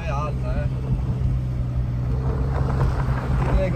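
A first-series Fiat Panda ploughs through about 30 cm of deep snow, its engine a steady low drone with rumble and wind buffeting throughout, while people talk over it.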